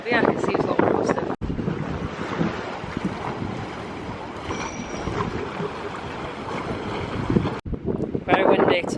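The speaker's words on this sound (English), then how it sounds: "Very windy today. It's picking up." Strong wind batters the microphone on a seafront, a loud continuous roaring rush with gusty swells, briefly cut twice, with faint voices near the end.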